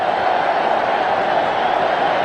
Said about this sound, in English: The crowd is delirious